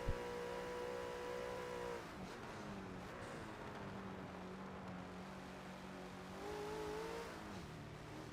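A BMW race car in a sim racing GT event at Catalunya, its engine droning steadily with a drop in pitch under braking, then climbing again as it accelerates, close and continuous.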